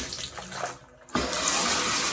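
Water runs steadily from a household sink tap, a continuous hiss and splash that drops away briefly, then gushes back louder and fuller, close by with no talking.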